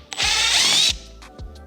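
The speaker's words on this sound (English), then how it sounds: "So I do this by drilling 2 holes in the nose cone." A power drill boring holes into a high-power rocket's nose cone: one loud, steady whirring burst of almost a second, with the trigger clicking on and off at either end and short blips after.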